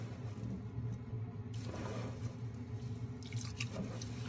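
Water runs steadily from a kitchen tap while sticky rice is being prepared, a continuous soft splashing rush with brief brighter bursts, fairly quiet and without any voices.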